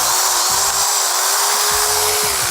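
A rotary hammer drill running off a generator whines loud and close with a steady high motor drone, broken by rough pulses of hammering, with no talk.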